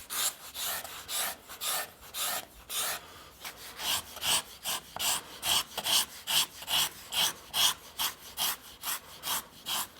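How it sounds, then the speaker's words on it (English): A small hand scraper shaves the carved wooden arched top of an archtop guitar in a quick series of rhythmic rasping strokes. The strokes are close and moderately soft, with no talking. "We go in here and play with a little scraper."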